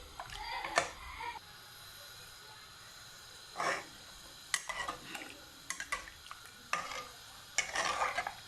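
A hot mixture is stirred in a pot: a spoon scrapes in irregular bursts, some short and some longer, against a quiet hiss, fairly near and soft.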